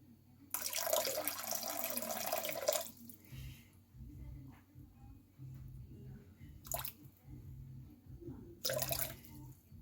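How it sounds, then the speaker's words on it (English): Hot water pours from a tap into a bowl on a scale in a steady rush for a couple of seconds, then quieter handling noises follow with two short splashes later. "I'll add a little bit more hot water just to get that to the temperature I like"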